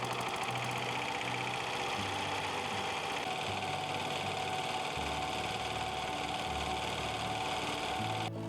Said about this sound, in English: he starts the engine and the machine roars to life